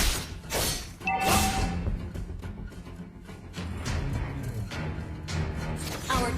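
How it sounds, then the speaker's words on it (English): A turret is destroyed in Mobile Legends during a Hayabusa jungle match, a loud crashing, shattering impact with thuds and whooshes layered over dense game music and effects, with no talk. "Our turret has been destroyed."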